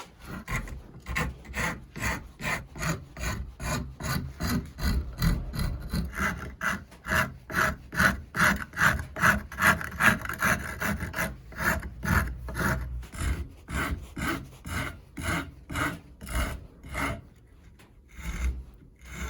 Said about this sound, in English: This is a pretty aggressive rasp for what we're doing,